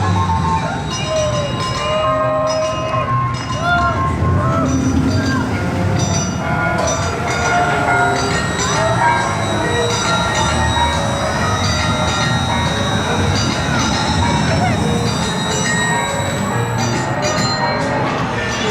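The Snoopy's Racing Railway coaster train rumbles past at an amusement park, a loud continuous rattle and rumble with metallic clanks and faint bell-like tones, with little talk.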